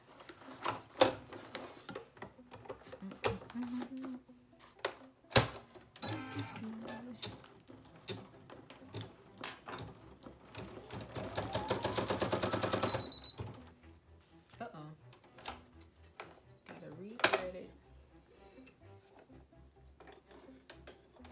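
An embroidery machine stitching a placement line for an in-the-hoop mini bag purse: a quiet, rapid mechanical needle clatter that builds into a sustained whirring run, between scattered clicks and handling noises, with a voice talking at times.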